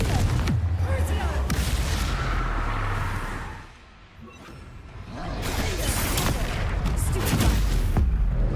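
Spell-casting blasts in the Hogwarts Legacy video game: loud booming explosions and whooshes in quick succession, a quieter lull midway, then more heavy impacts and crackling bursts.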